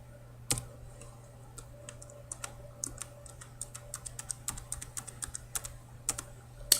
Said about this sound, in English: so we'll type in the VIN number